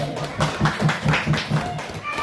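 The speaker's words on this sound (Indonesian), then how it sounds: "Tepuk tangan semuanya." A small group at a school positive-culture session claps in a steady rhythmic pattern of about eight even claps, fairly faint, with a voice speaking over it.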